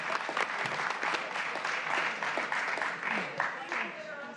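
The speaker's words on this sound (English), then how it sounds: "Let's give them applause." A Seattle City Council committee room breaks into sustained applause, a steady, fairly dense wash of many hands clapping at even loudness throughout, with some voices mixed in underneath.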